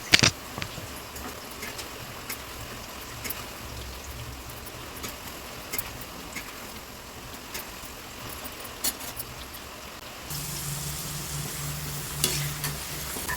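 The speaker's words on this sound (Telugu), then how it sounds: "ఒక గరిటెని అయితే తీసుకొని వీటిని పైకి కిందకి అటువైపు ఇటువైపు ఇలా కలుపుతూ ఉందాం" Snacks fry in hot oil with a continuous crackling sizzle while a ladle stirs them, clinking and scraping now and then against the pan, with the frying growing louder toward the end.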